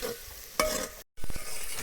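Onions tempering in oil, sizzling and crackling steadily in a hot pan, with a sharp flare of hissing and a brief cut in the sound.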